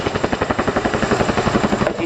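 An RAF Chinook twin-rotor helicopter at the RAF Cosford Air Show 2018, its rotors producing a loud, close, rapid rhythmic thudding that pulses evenly throughout.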